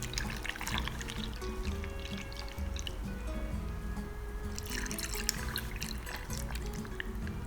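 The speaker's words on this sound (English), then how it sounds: "Pour over ice." Punch poured over ice, a continuous liquid pour with dripping and trickling, steady and close, with faint rattling and background hum throughout.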